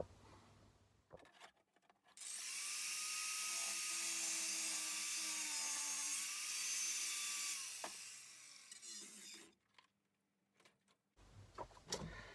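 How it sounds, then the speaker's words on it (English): An angle grinder grinding metal flat, a loud sustained high whine running for several seconds before winding down, with shed clatter before and after. "We get the grinder and we'll just grind that flat."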